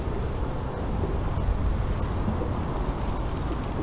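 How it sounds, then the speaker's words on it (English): Steady heavy rain with rumbling thunder from a thunderstorm in the video game The Pillars of the Earth, a dense continuous wash of noise with no pauses and no voices. "So let's try and resist the storm as much as possible."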